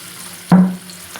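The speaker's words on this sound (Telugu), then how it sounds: "ఉల్లిపాయ కట్ చేసాను కదా, ఇది ఫ్రై అవ్వనివ్వండి." Onion hitting hot oil gives one short, loud burst of sizzle and a scrape that quickly fades to a quiet hiss.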